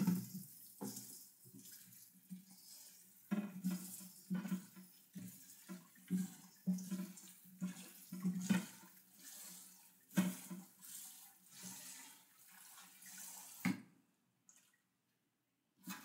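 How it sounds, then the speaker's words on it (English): Roasted broccoli rinsed under running tap water at a sink: splashing and dripping with irregular surges as the florets are turned in the stream, close but soft, stopping abruptly near the end, with no talking. "I'm just gonna wash the hell out of it."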